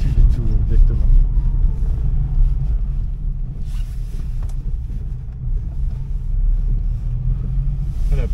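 Peugeot 104 S small sporty sedan engine heard from inside while driving, a steady, loud low drone with some wind noise, holding fairly constant throughout.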